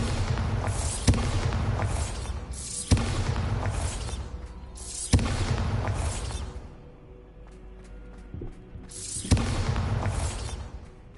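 Spell blasts from a Hogwarts video game's Bombarda blasting charm: four loud booming bursts with whooshing tails at roughly two-second intervals, each sharp onset decaying into a rumble, with a quieter lull before the last blast.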